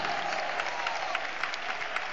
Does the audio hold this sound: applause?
yes